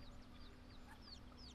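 Chickens in The Sims 4 cluck softly in a village setting, several brief chirpy clucks scattered over a quiet steady background hum, faint and with no voices.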